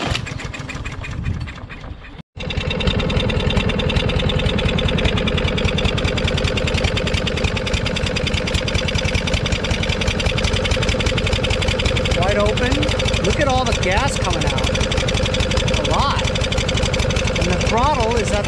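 Craftsman push lawn mower with a Briggs & Stratton 550EX engine, cold and fitted with a choke flap, coughs briefly, then runs steadily and loudly close by at full throttle, with a person talking over the drone.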